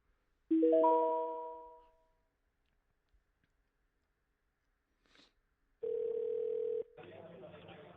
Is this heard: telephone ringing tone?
yes